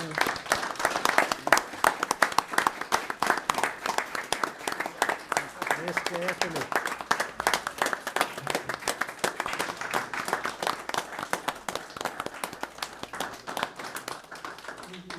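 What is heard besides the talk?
applause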